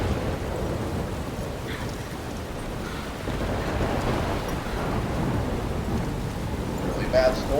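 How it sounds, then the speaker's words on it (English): Heavy thunderstorm with steady rain in the video game Life Is Strange Remastered, a dense continuous roar of downpour with low rumbling thunder rolling underneath throughout. "Really bad storm."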